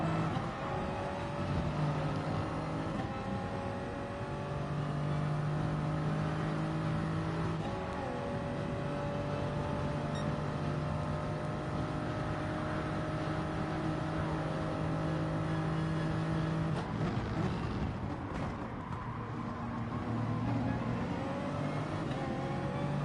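Race car engines drone and whine steadily in a Sardegna track race from the FIA Manufacturer's Cup in a racing video game. Sustained tones shift in pitch as the cars accelerate and shift gears, loud and continuous, with no talking.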